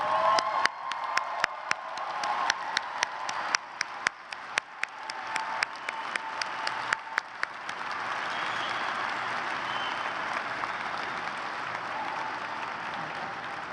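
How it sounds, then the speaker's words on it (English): A large crowd at a Gonzaga University undergraduate commencement applauds teachers and mentors. The dense clapping opens with sharp individual claps, then swells into a steady, broad roar of applause that holds to the end. "please rise and join me in a round of applause for your teachers and mentors"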